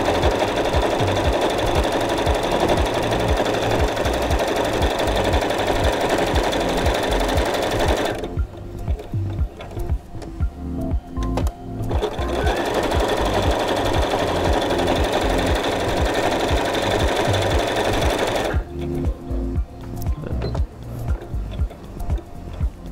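A sewing machine stitches two thick pieces of fabric together for an envelope book cozy, running in a steady rapid rhythm with two short pauses where the needle stops and restarts.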